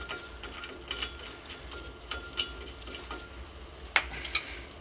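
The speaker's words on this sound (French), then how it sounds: "je vais essayer de dévisser ça comme ça pour vous montrer" Wrench ratcheting as a bolt is loosened on the brake of a Fiat 500 1.2L, quiet clicking and grinding metal turns in a garage with a low background hum.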